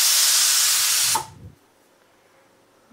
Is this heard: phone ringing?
no